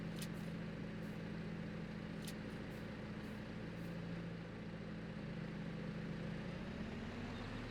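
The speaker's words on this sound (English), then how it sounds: "I'll try to push the tree back a bit with the skid steer" A skid steer engine runs steadily in Farming Simulator 22 while pushing a tree, with a constant mid-pitched motor drone that shifts slightly in load near the end, heard alone.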